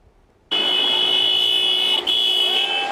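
A loud, sustained car horn blares close by at a street protest in front of West Allis City Hall, holding steady for over two seconds with a brief dip.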